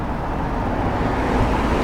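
A car passes on the road, a broad steady whoosh of tyre and engine noise swelling slightly as it goes by, close and loud for a couple of seconds.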